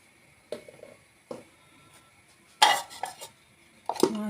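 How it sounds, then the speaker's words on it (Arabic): Kebab ingredients, including chopped thyme, seven-spice mix and black pepper, stirred together in a bowl with a utensil, producing scattered clinks and a few louder scraping bursts of metal against the bowl, without any talking. "نخلط بقى المكونات دي كلها مع بعض"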